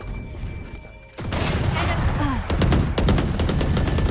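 Gunfire in the Valorant video game, a dense fusillade of rapid automatic shots that starts after a quiet moment and holds loud and close for several seconds, with individual sharp cracks near the end.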